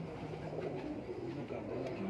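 Cooing of a champion racing pigeon that has flown for seven or eight years, soft repeated low coos in a steady murmur against a busy background.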